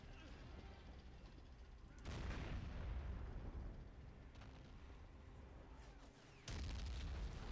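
Soldiers trade gunfire in the Men of War: Assault Squad 2 video game during Operation Market Garden, with sustained booming bursts and rumbling volleys that swell and fade, then slam back in loudly near the end.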